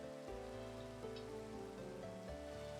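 In the Minecraft video game, rain falls as a soft, steady hiss. It runs quietly and continuously beneath sustained background music tones, with no voices.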